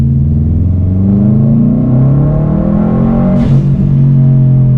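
A Subaru WRX STI at full throttle in second gear on a German Autobahn: a loud, sustained engine roar climbs steadily in pitch, with a brief shift-like break near the end, and no talking.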